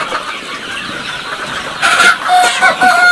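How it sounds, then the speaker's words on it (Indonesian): Native Indonesian village chickens cluck from a poultry farm, soft and steady at first, then a louder burst of repeated clucks rising over a constant hum of background noise. "Jadi ini ayam kampung asli."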